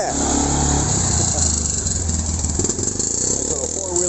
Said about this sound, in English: Nice little four-wheeler there.